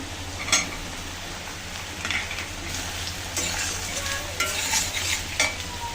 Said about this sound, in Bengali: এখন সয়াবিন দিয়ে দিচ্ছি, আমি একসাথে ভেজে নেব।